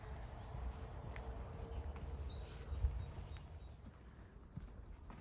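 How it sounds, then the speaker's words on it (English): Faint bird chirps in woodland scattered over a steady low outdoor rumble, with a soft thump midway; no voices, distant and quiet throughout. "You can hear all the birds"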